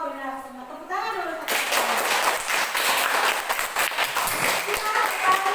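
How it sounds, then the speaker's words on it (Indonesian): Children clap together in a classroom, a burst of dense, lively applause following a teacher's voice, loud and sustained with some scattered chatter. "Tepuk tangan dulu."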